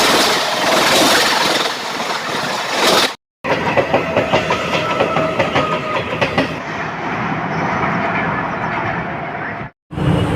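A local train at Howrah railway station rumbles and clatters steadily at close range, with a rhythmic clickety-clack of wheels on rails, broken by two brief silent cuts.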